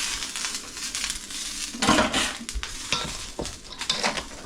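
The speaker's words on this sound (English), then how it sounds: "I'll stir this, and as I'm stirring this, I'm going to slowly fold in this other egg mixture." A spoon stirs a sausage and sage stuffing mixture into dried bread, producing close, moist scraping and squelching strokes with irregular swells and a faint sizzle underneath.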